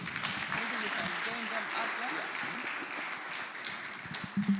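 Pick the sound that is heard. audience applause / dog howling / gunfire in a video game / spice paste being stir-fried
audience applause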